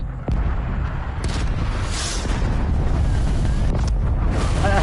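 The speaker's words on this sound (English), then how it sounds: "Cruise missile inbound." A cruise missile strike in a video game, a loud, sustained explosive rumble with several sharp boom onsets over roughly five seconds, heard alone without talk.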